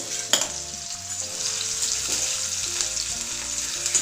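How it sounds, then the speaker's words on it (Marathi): Finely chopped onion sizzles in hot oil, a close, continuous frying hiss with a sharp burst at the start and occasional soft scrapes of stirring, no voices. "तेल गरम झाले आहे त्यामध्ये ह्या बारीक चिरलेला कांदा एक टाकून घ्यायचा आहे आणि त्याला चांगलं परतून घेऊ"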